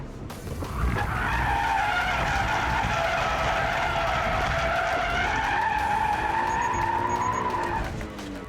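A car drifts through a sustained slide after a downshift from third to second, its tires squealing loudly and continuously under engine roar for several seconds before easing off.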